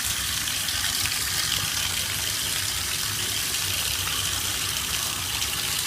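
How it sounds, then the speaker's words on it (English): A bathtub water tap runs in a steady, full gush that fills the whole stretch evenly and close by, with no voices over it. "I'm going to start turning on my water so I can feel what temperature it is."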